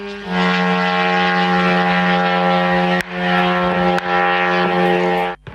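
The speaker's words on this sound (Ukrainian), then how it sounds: "Наслідки від цих так званих іранських мопедів значні." Iranian kamikaze drone in flight, a loud steady droning propeller engine with strong harmonic buzz, continuous and close, with brief dips near the end.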